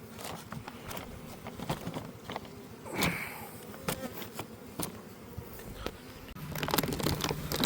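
Buckfast bee colonies hum and buzz from full ten-frame hives, a dense, close swarm drone that runs throughout with scattered crackling handling noises and a thicker rise near the end.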